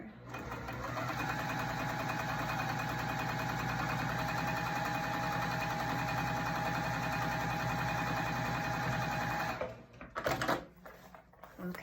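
Sewing machine stitching shapeshifter vinyl, a steady fast mechanical whirring hum of rapid needle strokes running continuously at close range for nearly ten seconds, then stopping with a few handling clicks and knocks.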